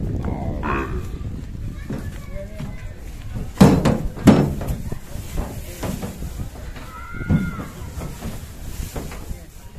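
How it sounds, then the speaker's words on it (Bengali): Cattle being loaded onto a truck at a Dhaka market, bulls bought for a farm: hollow thuds and knocks from hooves and truck boards, loudest in the middle, with people talking throughout. "একটি গরু উঠানো হচ্ছে"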